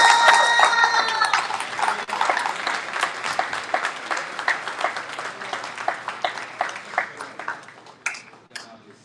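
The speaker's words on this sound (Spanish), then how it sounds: "Quiero darle un gran aplauso" An audience at a university event in Sonora applauds a guest, dense clapping starting loud and gradually thinning into scattered claps that fade out.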